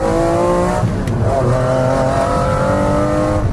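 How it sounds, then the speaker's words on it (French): McLaren F1 with a lightened, boosted BMW V12 of over six litres, revving hard as it accelerates: a loud, steady, dense engine roar that fills the whole moment without a break. "on a un V12 d'origine BMW de plus de 6 litres qui a été allégé et boosté spécialement pour la McLaren F1"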